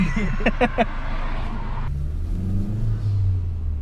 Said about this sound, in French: Donc déjà, on entend bien le turbo.